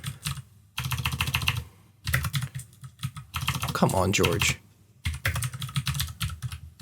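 Rapid typing on a computer keyboard clatters in bursts, with the microphone close to the keys, while someone talks briefly in the middle.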